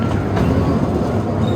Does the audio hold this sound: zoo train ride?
yes